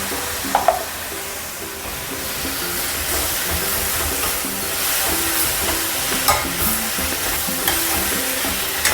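Chopped tomato added to softened onion in a pan sizzles and fries steadily, with occasional stirring clatter, a tomato gojju being cooked for a South Indian breakfast.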